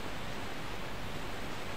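A waterfall in the video game Tomb Raider 3 gives off a constant, even rushing hiss of falling water, dense and unbroken, with no voices over it.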